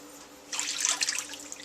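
A cup of water poured into a pan with sugar for almond brittle, a short splashing gush that starts abruptly after a quiet moment and trails off, close by with no talking.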